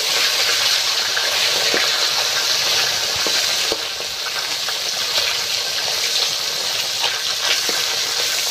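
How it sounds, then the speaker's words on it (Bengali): Fish rubbed with salt and turmeric fries in hot oil in a wok, giving a continuous close sizzle and crackle with a few sharp spits and pops. "তেল গরম হলেই কিন্তু মাছটা আস্তে আস্তে দিয়ে ভেজে নেব।"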